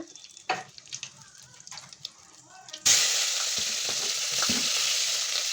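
Whole spices, star anise and biryani leaf, hit hot oil for bagara rice. Quiet clinks come first, then a sudden loud, sustained sizzle with a few stirring knocks, close up and without speech.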